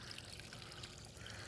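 Water flows steadily over a small backyard waterfall feature on a crawl course, a faint, even trickling and splashing with no other sounds.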